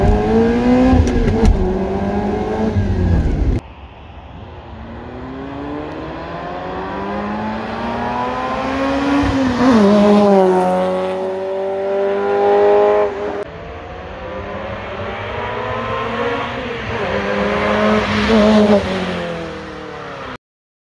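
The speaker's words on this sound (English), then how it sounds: "Is it all worth it for that exhaust note?" A Ferrari engine revs hard and climbs through its gears, a loud throaty exhaust note rising and falling in repeated waves, close by.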